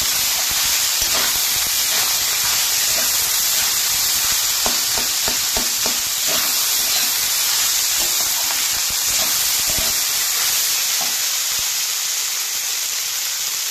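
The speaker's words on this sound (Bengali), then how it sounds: "স্বাদ মতো লবণ, দিয়ে ভালো করে আমি ভাতটাকে ভেজে নেব।" Leftover rice with salt fries in a pan, a loud, steady hiss of sizzling oil broken by occasional clicks and scrapes of stirring, close up and without talk.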